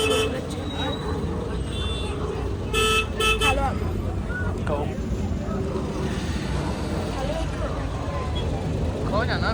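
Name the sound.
car horns honking in traffic jam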